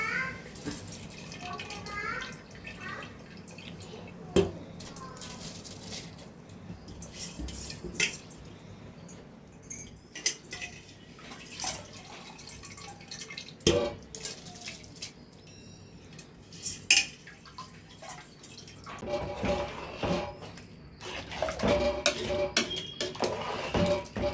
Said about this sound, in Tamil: இப்போது அரிசி போட்டுக்கலாம் ஃப்ரெண்ட்ஸ்